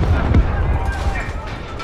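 An explosive detonation in Call of Duty: Modern Warfare hits as a heavy boom early on, followed by crackling, rumbling debris and distant pops while a voice talks over it.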